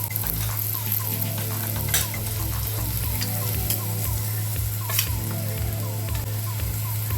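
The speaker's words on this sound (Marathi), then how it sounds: "ते थोडंसं परतून झालं की आपण हा कच्चा मसाला 2 चमचे घालूया" Raw masala sautéing in two tablespoons of oil with beans and carrots for masale bhat, a steady close sizzle with a regular low rhythmic pulse and occasional stirring clinks; no talk.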